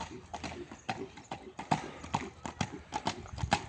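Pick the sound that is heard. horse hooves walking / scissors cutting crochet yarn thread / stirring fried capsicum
horse hooves walking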